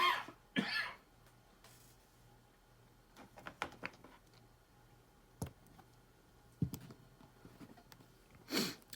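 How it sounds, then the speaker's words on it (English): A man reviewing an X-Men movie coughs a few times, quietly and sharply, with faint clicks and breaths in between in a still room. "I'm gonna cough"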